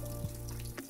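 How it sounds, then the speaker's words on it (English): Water carrying soaked alfalfa and salad-blend seeds poured with a gentle shaking motion into a two-compartment Sprout Master sprouter, a short close splash and trickle that stops abruptly near the end. "With gentle shaking motion, dump the water with the seeds into the sprouter"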